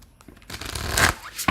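Tarot cards riffled and shuffled by hand, a soft papery flutter that builds over about a second and ends with a quick snap, with no talking.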